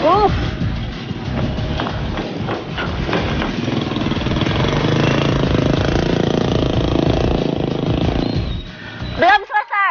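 A motorcycle engine runs steadily, a loud droning rumble that fades near the end, with a voice speaking briefly over it.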